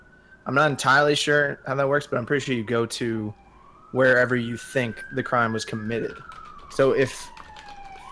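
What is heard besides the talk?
sirens passing outside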